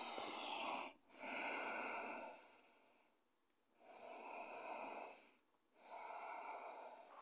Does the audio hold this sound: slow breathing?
yes